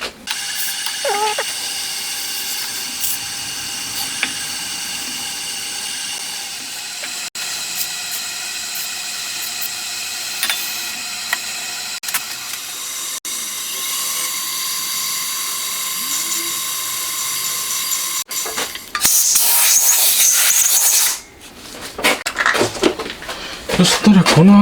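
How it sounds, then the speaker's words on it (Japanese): An 8 mm reamer enlarges previously drilled holes in a handmade motorcycle top bridge, a steady grinding hiss of metal being cut that runs at moderate level, with a louder scraping burst near the end. "で、この3箇所 8mm のリーマーです。"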